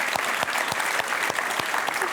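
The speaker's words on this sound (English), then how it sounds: "clap test, clap test" An awards-night audience at the Swiss Who's Who NextGen Awards claps in a test round, a dense, lively patter of many hands with a few sharper individual claps cutting through at regular intervals.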